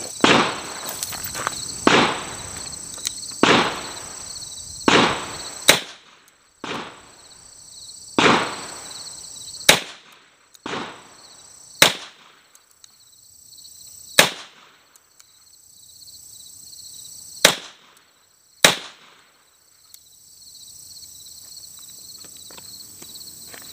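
Gunshots from a Webley Mk IV revolver at an outdoor range: a series of about a dozen sharp, loud reports at irregular intervals, each with a short decaying echo, over a steady high-pitched background hum.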